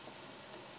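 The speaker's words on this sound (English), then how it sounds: "Give it a stir." A cod fish roe curry with salt and malt vinegar sizzles gently in a pan as it is stirred, a faint, steady frying hiss over a short stretch with no voices.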